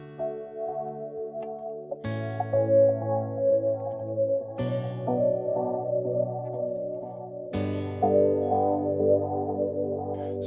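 Electric guitar chords run through Strymon Timeline delay and BigSky reverb for a chorale-style wash, played without volume swells: four struck chords with sharp attacks ringing into lush, shimmering modulated sustain, loud and alone.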